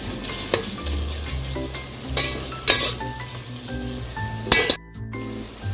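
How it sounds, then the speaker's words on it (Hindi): Onion and minced meat keema fry and sizzle in a pan while a spoon stirs and clinks against the metal in repeated scrapes, close up and continuous, with no talk over it. "ये 3 मिनट प्याज को कीमे के साथ अच्छी तरीके से भून लिया है।"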